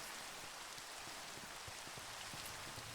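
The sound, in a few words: acid rain falling in a video game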